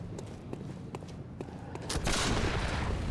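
Gunfire in the video game Bloodborne: The Old Hunters, with a string of sharp, separate shots that thicken into a louder, denser volley of blasts.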